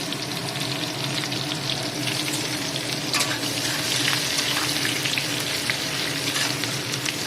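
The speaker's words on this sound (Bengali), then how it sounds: "জিরে নিয়েছি, এই যে তেলের ওপরে দিয়ে দিচ্ছি। এখানে পেঁয়াজ কাটা দিয়ে দিচ্ছি। এখানে রসুন দিয়ে দিচ্ছি অল্প করে।" Cumin seeds, chopped onion and a little garlic frying in hot oil for a greens dish, a dense, continuous loud sizzle with faint stirring, steady throughout and without talk.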